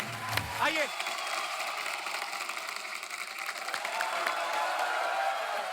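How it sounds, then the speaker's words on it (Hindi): A studio audience on a comedy talk show applauds in a steady, dense wash of clapping and cheering that continues throughout, with a brief voice and a whistle-like sweep at the start. "एक बार जोरदार तालियां हो जाए।"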